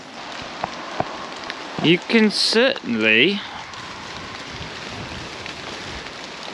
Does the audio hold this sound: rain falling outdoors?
yes